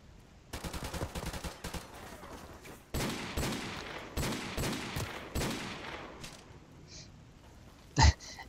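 Rapid gunfire rattles through a Call of Duty: Modern Warfare Remastered tournament match, with bursts of automatic fire and single shots that come close together and then thin out, ending in one sharp, loud report.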